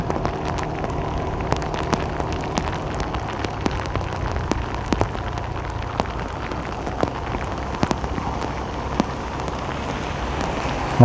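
Heavy rain pours steadily onto a street in Saigon, a dense, even hiss with scattered sharper drops and faint passing traffic underneath, no voices.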